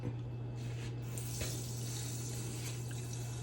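Water runs steadily into a pan holding sugar for a semolina custard-powder burfi, a continuous close splashing stream for a few seconds.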